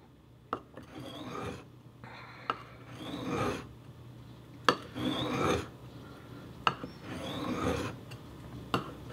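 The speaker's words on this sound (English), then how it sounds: "And here we go, more sharpening." A knife blade is drawn across a sharpening stone in rhythmic rasping strokes, about four long scraping passes, each set off by a sharp tap, close and clear with no voices.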